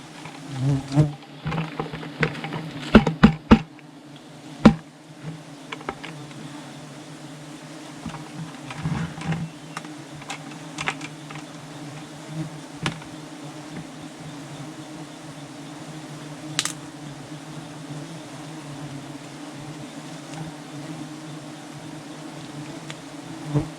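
Bees buzz steadily and close by while a large wild hive is cut apart, with a sustained low hum throughout and a few sharp clicks and knocks from the cutting near the start.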